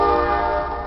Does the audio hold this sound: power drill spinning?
no